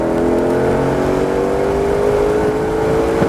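A 2020 Shelby GT500 gains speed at Nelson Ledges Raceway, its engine roar loud and steady up close as the pitch slowly climbs under throttle.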